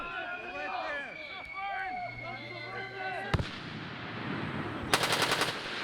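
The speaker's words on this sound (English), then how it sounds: "Those are the machine guns shooting overhead." Machine guns fire overhead during military basic training, a dense rattling volley of rapid shots that sounds fairly distant, followed by a sharp crack and a later burst of quick repeated reports.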